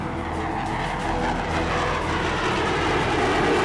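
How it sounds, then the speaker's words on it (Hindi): An Israeli F-15 fighter jet roars loudly and continuously in flight, a dense rushing engine noise holding steady throughout with no talk. "ये सुरमई रंग का विमान इजराइल का F-15 फाइटर जेट है, दुनिया के सबसे खतरनाक फाइटर जेट में से एक।"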